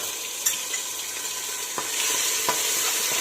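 Garlic-ginger paste stirred into hot oil for mutton achar, a steady sizzle with a few sharp scrapes of the spoon against the pan, close and continuous.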